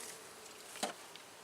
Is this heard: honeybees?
yes